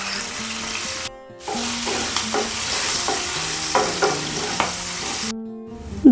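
Crushed ginger, garlic and green chili hit hot oil with cumin while making methi zunka, giving a loud, continuous sizzle with frying crackle and a few stirring clicks, no talking.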